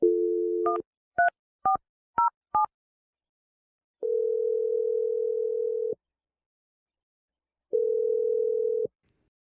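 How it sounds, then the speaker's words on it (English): A telephone dial tone is followed by a quick series of keypad touch-tone beeps as a number is dialed for a radio show call, then two long, steady ringback tones with a pause between them, all clean and close. "I'm going to dial the number right now."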